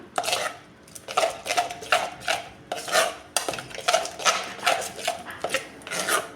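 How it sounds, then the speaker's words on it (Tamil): Kachayam batter is stirred and beaten with a ladle in a bowl, giving a steady rhythmic series of wet, scraping strokes, roughly two per second, close and clear with no speech. "நல்லா கலந்து விட்டுக்கணும்"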